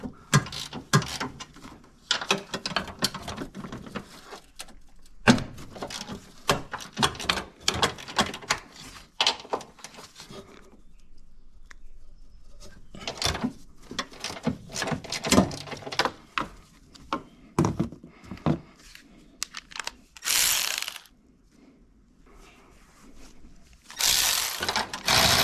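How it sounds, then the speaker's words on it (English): A hand ratchet loosening the three 14 mm front strut nuts on a Toyota Sienna minivan, heard as rapid close-up clicking bursts separated by short pauses, with metallic clanks and a few louder scraping bursts near the end; no talking. "So now we're gonna remove these three nuts so we can remove the strut."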